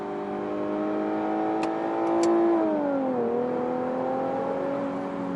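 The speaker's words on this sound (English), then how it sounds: "when that thing just kicks into the next gear and the turbos spool up" Infiniti Q50 Red Sport twin-turbo car accelerating hard, its engine note climbing steadily, then dipping and resettling as it shifts into the next gear and pulls on, heard from inside the cabin with no talk.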